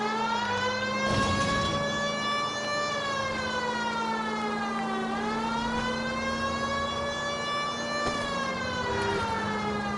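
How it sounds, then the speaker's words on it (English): A wailing emergency siren in the video game L.A. Noire rises and falls in slow sweeping cycles, loud and steady over a low engine hum, with no voices. "Come on, guys, you know what the siren means"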